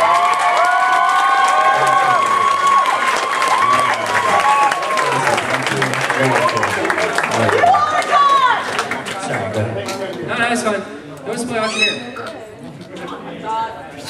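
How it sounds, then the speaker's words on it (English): Applause and cheering from a convention panel audience at a charity event, with loud clapping and voices overlapping throughout, mixed with chatter and whoops. "everyone, please, a round of applause for Brian here."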